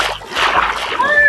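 Player jumping into ocean water in Minecraft: a brief splash and slosh of water lasting about a second, with voices around it.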